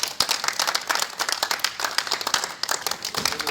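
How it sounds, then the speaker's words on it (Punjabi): Crowd applauding at an outdoor tree-planting drive run by a youth club in Patiala, Punjab, with dense, uneven clapping that carries steadily throughout and stays fairly close. "ਤਾੜੀ ਵੀ ਵਜਾ ਦਿਓ ਇੱਕ ਵਾਰੀ ਜ਼ੋਰਦਾਰ"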